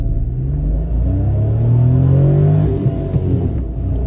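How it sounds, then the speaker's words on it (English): A 2022 Mitsubishi Mirage G4 ES with a manual gearbox pulls away from a standstill in first gear. Its small engine drones steadily and rises in pitch under load, loud and close from inside the cabin. "try out an acceleration off the line. We're not going to launch it, of course, but 1st gear, just leaning into it"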